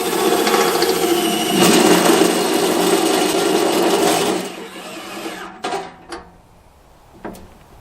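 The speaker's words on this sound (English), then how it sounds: "So we'll just drive in some screws." Screws are driven into a tractor mount with a power driver, a loud buzzing whir for several seconds that winds down, followed by a few sharp clicks and knocks nearby.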